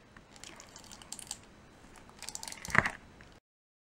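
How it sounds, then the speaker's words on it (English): Tape being applied in a traveler's notebook, with close crinkly rustling, small taps and presses building to a sharper crackle of tape before the sound stops. "so let's tape this guy"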